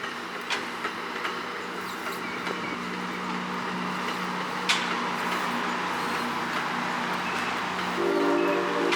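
Trains rumble past steadily with clattering wheels and a short horn blast near the end, moderately close, no voices: an HHP-8 locomotive followed by three MP36 locomotives on MARC commuter trains.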